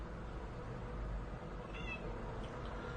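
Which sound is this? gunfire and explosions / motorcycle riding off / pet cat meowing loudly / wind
pet cat meowing loudly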